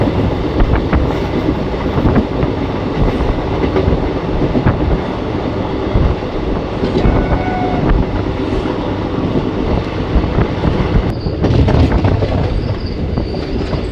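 An Ahmadpur–Katwa passenger train runs on rails near Kirnahar station, a loud, continuous close-up rumble with steady wheel clatter and rattling carriages throughout, swelling briefly near the end.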